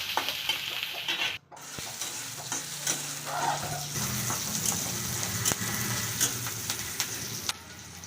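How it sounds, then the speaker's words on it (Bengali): Steady oil sizzle and crackle of green chillies and garlic frying, with occasional stirring scrapes and clinks of a utensil in the pan. "এই তেলের ভিতর আমি দিয়ে দিলাম কাঁচা লঙ্কা আর রসুন। এটাকে একটু ভেজে নেব।"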